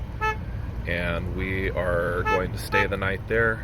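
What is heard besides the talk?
car horn honking behind the speaker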